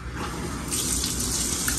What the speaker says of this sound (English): Here's the little shower.